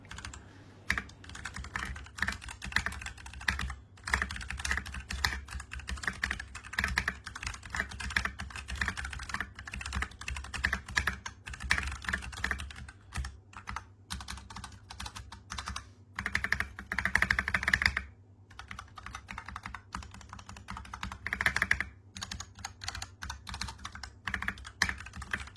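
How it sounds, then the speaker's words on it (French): Steady, close typing on a Klim Shift gaming keyboard with Brown switches and ABS keycaps, a soft dense patter of keystrokes with brief pauses and no voices. "vous avez pu entendre le son ASMR du clavier directement avec les switches Brown et les touches en ABS"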